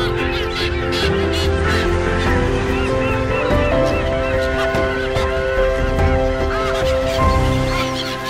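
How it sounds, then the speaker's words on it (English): Terns at sea give harsh, repeated calls scattered throughout, carried over a steady musical bed that runs the whole time. "These amazing terns really are true birds of the sea."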